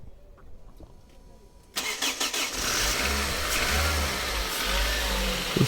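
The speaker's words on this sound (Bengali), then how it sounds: "আমরা গাড়িটা স্টার্ট করে আপনাদেরকে দেখাবো" A Toyota Hiace with a 1TR VVTi 2000cc engine converted to run on CNG cranks and fires up after a quiet stretch, settling into a steady, close, mid-pitched idle with a few light revs.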